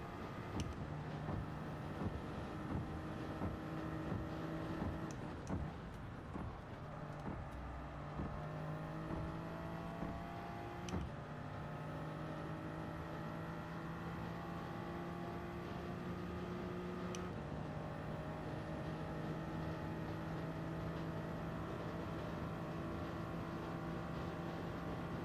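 A race car engine in Gran Turismo 7 on PS4 drones steadily and loudly throughout, its pitch climbing and then dropping at several gear shifts as the car accelerates and brakes through corners.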